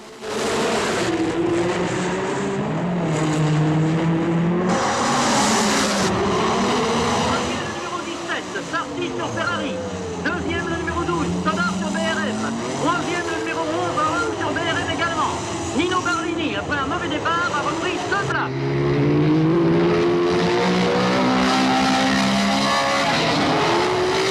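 1960s Formula One race cars in a film soundtrack: loud, screaming engines sweep past and rise and fall in pitch through repeated gear changes, layered and continuous, with a brief dip before another roaring pass.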